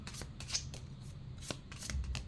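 Tarot and astral cards are shuffled close up, making quick soft riffling bursts in an uneven rhythm, quiet and alone without talk.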